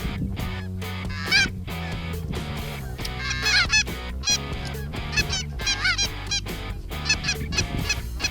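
A flock of greater Canada geese honks loudly and repeatedly nearby during a Saskatchewan hunt, overlapping calls in quick bursts over a steady low background rumble.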